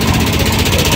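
A used LPG-powered auto rickshaw engine runs close by at a rickshaw market, putting out a loud, steady, rapid mechanical chugging.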